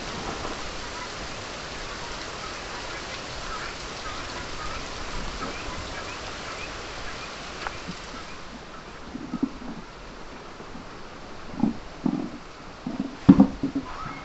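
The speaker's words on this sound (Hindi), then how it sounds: "बारिश भी बहुत है, देख सकते हो मेरे फार्म पे बारिश की बारिश है।" Heavy rain pours steadily on a poultry farm, a dense continuous hiss throughout, with a few louder drips and knocks standing out near the end; no talk.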